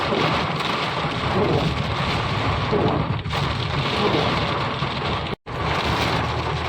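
Heavy rain pours down near Lonavala in a dense, constant roar, with a brief cut near the end.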